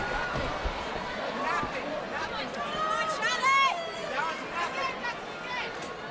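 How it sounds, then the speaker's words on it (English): Crowd noise at a Fight 4 The Cause combat sports event, a steady hubbub and chatter with rising cheers, heard beneath a commentator's voice throughout. "The crowd is loud here today."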